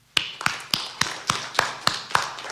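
Slow, regular claps ring out at a press conference in Meghalaya in honour of the media people, about eight sharp hits spaced evenly with nothing else around them.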